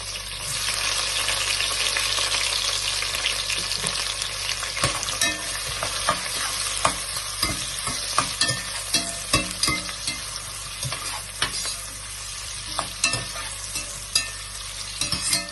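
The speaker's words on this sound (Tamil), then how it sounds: "பட்டை லவங்க ஏலக்காய் பச்சை மிளகா வெங்காயம் போட்டு நல்லா வதக்கணும்" Onion, green chili, cinnamon, cloves and cardamom frying in hot oil for prawn biryani, a loud continuous sizzle broken by stirring scrapes, heard up close with no voices.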